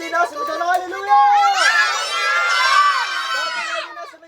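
A crowd of children shouts "hallelujah" together in a loud, excited burst of voices, rising into overlapping cheering and chatter that carries on for a few seconds.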